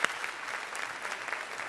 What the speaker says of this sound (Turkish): Biz Elif'e kocaman bir alkış alalım